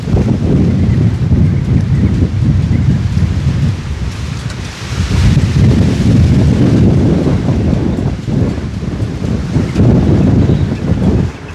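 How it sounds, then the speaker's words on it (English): Powerful wind storm blowing outdoors in Palmer, Alaska, a loud sustained roar with deep rumbling gusts and heavy microphone buffeting that briefly eases midway before surging again, no voices. "So this is what the wind currently sounds like out here."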